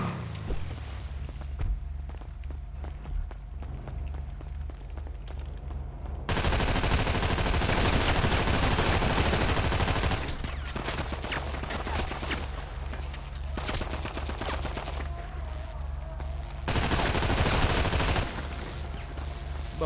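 Rapid bursts of gunfire crackle continuously over a dense, loud background of FiveM game noise, with heavier volleys at intervals and no talking.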